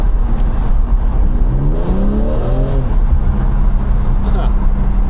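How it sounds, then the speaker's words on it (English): A BMW E36 328i engine revs up and drops back in 5th gear under steady road rumble, its worn clutch slipping so the pitch climbs without a matching surge, close and fairly loud. "Well, the clutch is definitely going out."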